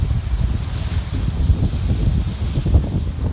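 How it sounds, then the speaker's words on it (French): Strong 20-knot wind roars steadily over rushing water, with low buffeting gusts against the microphone, on a sailboat making 5 knots under a scrap of genoa in the Small Cyclades, Greece. "Il y a 20 nœuds de vent."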